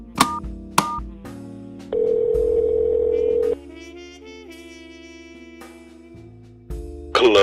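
Telephone handset sounds in the point-and-click adventure game The Journey Down: a couple of sharp clicks, a steady dial tone, then a quieter ringing or connection tone before a final click.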